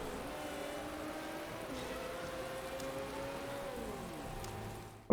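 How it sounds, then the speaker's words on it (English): Steady rain hisses over the distant drone of race cars in the Motorsport Manager racing game, a continuous wash with no voices. "The rain starts to come down"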